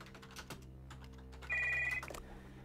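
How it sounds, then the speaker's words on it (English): Telephone ringing inside the video game Stories Untold, a clear electronic bell tone that rises for about half a second over a murky background of low hum and soft clicks. "behind the door a phone starts to ring."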